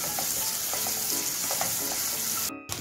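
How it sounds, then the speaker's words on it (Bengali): Chopped onions sizzle in hot oil in a pan with cumin, a continuous crackling fry with faint stirring scrapes, cut off abruptly near the end. "পেঁয়াজটা আমি ভেজে নিচ্ছি হালকা ব্রাউন করে"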